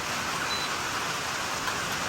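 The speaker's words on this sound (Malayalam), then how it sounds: "മഴ വീണ്ടും നല്ല സ്ട്രോങ് ആയിട്ട് തന്നെ പെയ്തു തുടങ്ങിയിട്ടുണ്ട്" Heavy rain pours down in a dense, unbroken hiss, steady and loud throughout, with no voices.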